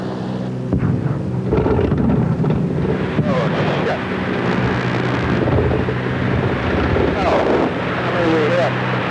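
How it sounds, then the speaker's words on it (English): Engine drone from a flying boat aircraft over the Nile's fourth cataract, rough and continuous with a strange noise in it, heard close amid heavy wind buffeting and cabin rumble. "We've got a noise coming out of this engine here."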